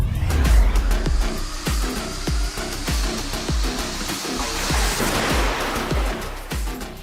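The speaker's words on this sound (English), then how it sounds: "The crash is then carried out to study front and side impact on the cars as per Indian regulations." Maruti Suzuki Fronx crash test under Indian regulations for front and side impact, heard as a loud rushing roar with a series of sharp repeated thuds and rattles, no talking.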